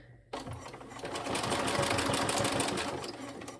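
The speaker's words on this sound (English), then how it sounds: "the wax canvas kind of sews fine together" A sewing machine stitches waxed canvas with a universal needle, running alone and loud after a brief quiet start, its rapid steady needle chatter holding an even rhythm throughout.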